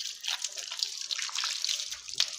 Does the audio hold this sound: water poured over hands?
yes